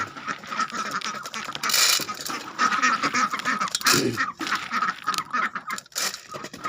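Several native ducks quack in irregular bursts, fairly close, with a loud cluster of calls in the middle and a busy outdoor background.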